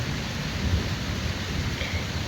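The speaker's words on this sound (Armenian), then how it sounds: "Ամբը գոռում է, անձրևը գալիս է" Steady rain falls with low rolling thunder rumbling beneath it, a dense continuous hiss with a deeper swell partway through, no voices.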